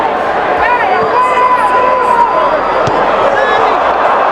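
A football stadium crowd roars in sustained cheering after Lionel Messi scores from a free kick for Argentina against Iceland, a dense, loud wash of voices with whistles and shouts rising throughout, no distinct talk on top.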